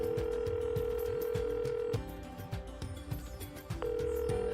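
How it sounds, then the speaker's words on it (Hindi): A phone's steady dial tone breaks off partway as a number is dialed, then returns, playing at moderate level over a background music bed. "माया ने अपने पर्स से फोन निकाला और एक नंबर डायल किया।"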